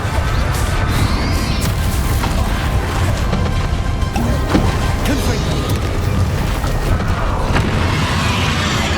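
Confringo fire-blast spell explosions in the Hogwarts Legacy video game, a dense stream of booming crashes and impacts amid ongoing combat noise, loud and close throughout.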